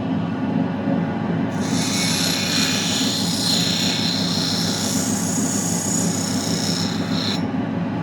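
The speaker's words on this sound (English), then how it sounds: "I'll actually go on the rougher wheel." Opal from Mintabie ground on a rough grinding wheel, a steady motor hum with a hissing, scraping grind that runs for several seconds and then stops, close and alone.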